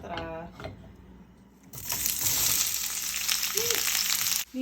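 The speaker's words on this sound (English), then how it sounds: "Gonna heat it up, throw in my onions" Onions thrown into a small amount of hot oil start frying with a sudden loud hiss that holds steady after a quieter opening, where someone talks briefly.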